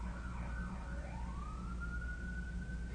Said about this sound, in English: You hear that siren in the background?